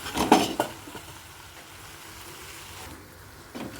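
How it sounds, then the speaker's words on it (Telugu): Ridge gourd pieces drop into a pan of cooking tomatoes with a short clatter and sizzle, then the frying settles into a soft steady hiss, with a brief scrape near the end. "ఇప్పుడు బీరకాయ ముక్కలు కూడా వేసేస్తున్నానండి"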